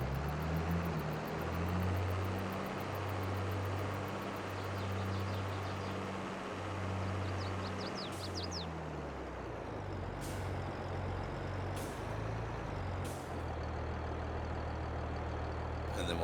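A John Deere tractor in Farming Simulator 22 drives with a steady, droning low engine rumble that shifts pitch midway. Several short, sharp hissing bursts and faint clicks sound over the engine.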